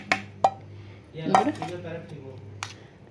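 A spoon scrapes and clinks against a pan while tempering is stirred into ginger chutney, giving a few sharp metallic taps followed by softer scraping; a voice briefly murmurs in the middle.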